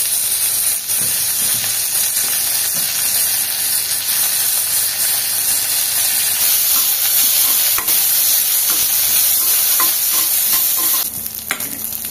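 Ginger, garlic and mint frying in a pan after cumin and fennel have browned, giving a loud, steady sizzle with stirring scrapes that runs the whole time and eases slightly near the end.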